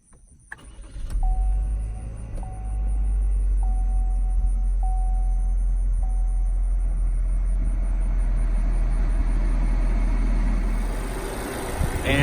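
A 2019 Chevy Equinox LT's 1.5-liter four-cylinder fires up by push-button start: a quick cranking catch settles into a loud, steady low idle, with several soft dash chimes ringing over the engine early on.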